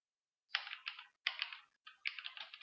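Three short bursts of rapid typing on a computer keyboard while entering text in PageMaker, each flurry of close, crisp key clicks separated by brief pauses, with no voices.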